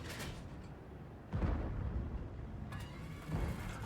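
Deep booming tank cannon shots in a video game, two or three heavy blasts with rumbling decay over a constant engine-like drone.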